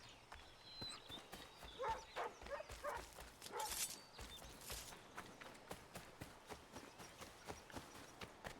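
Soft repeated footsteps and faint rustling from a dog in a video game set among Redcoats, quiet rhythmic patter with a few brief louder bursts, no talk.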